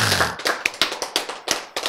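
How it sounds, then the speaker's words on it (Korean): A single audience member claps at a church lecture on unconditional love, a string of sharp, separate hand claps in an uneven rhythm, fairly close and alone after a brief low hum at the start. "우리 이경 선수 박수 제일 먼저 쳤어"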